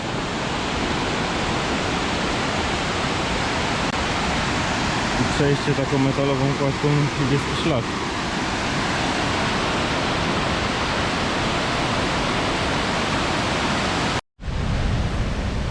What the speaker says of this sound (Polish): zaraz będzie efektowny wodospad a dzisiaj więcej wody niż zazwyczaj widać jak przelatuje nad składką